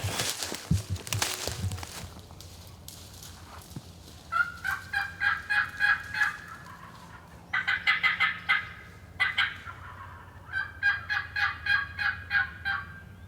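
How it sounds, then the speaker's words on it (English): A wild turkey gobbles high on a hill in the distance: several rapid rattling gobble bursts in a row over outdoor hush, after footsteps rustling through brush. "So we got this bird gobbling up high up on the hill."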